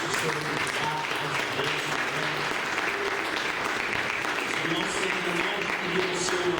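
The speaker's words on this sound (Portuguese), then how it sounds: "As palmas do Senhor Jesus." Congregation applauding in a church service, a dense, steady wash of clapping that fills the space at full level, with some voices faintly mixed in beneath the applause.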